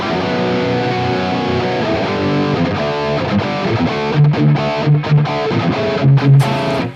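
A Mesa Boogie JP-2C amp with the shred mode boost engaged and presence backed down, heavily distorted guitar chords and riffs, thick and loud with sustained notes and a few punchier accented hits, no talking.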